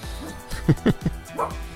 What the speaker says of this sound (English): We're watching curling on TV, so Mr. Brody is barking after curlers.